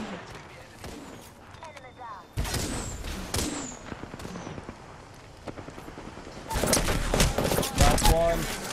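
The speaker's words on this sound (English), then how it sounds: "I still hear gunshots" Gunfire in Apex Legends rattles in bursts, a heavy volley at mid-clip and another dense stretch near the end, loud and close, with a player talking between the shots.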